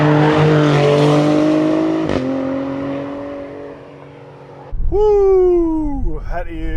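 Alfa Romeo Stelvio Quadrifoglio SUV accelerating hard, a rising engine roar that fades, then a sharp loud tire squeal with more revving close by, briefly under an excited voice.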